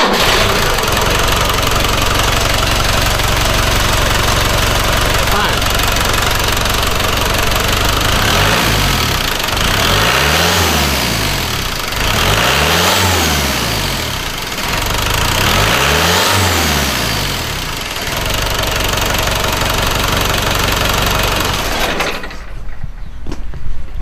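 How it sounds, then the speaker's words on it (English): A Land Rover with a Tdi200 diesel engine runs loudly and close by, idling with a steady rumble that swells through several revs, then cuts off abruptly near the end. "So I'll just let you listen to engine again."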